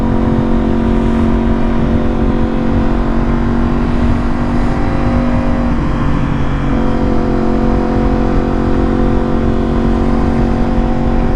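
A 2023 Yamaha R1M with a flashed ECU and remapped fuel, running in Mode B while ridden, gives a loud, steady engine drone that holds close and constant the whole way through, with no one talking.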